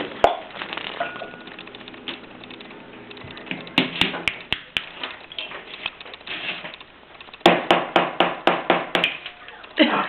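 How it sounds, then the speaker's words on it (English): Chiseling a stone out of a dig kit, a rapid series of sharp tapping and scraping clicks in bursts, close and crisp, with quieter scratching between them. "Use this to help chisel it out."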